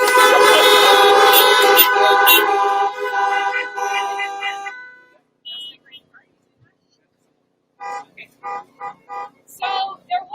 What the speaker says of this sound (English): Everyone honk for Pastor Ben.